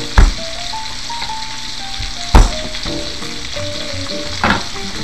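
Salmon fries in a pan with sauce, giving a steady close sizzle that runs throughout, broken by three sharp knocks of a utensil against the pan. No one speaks.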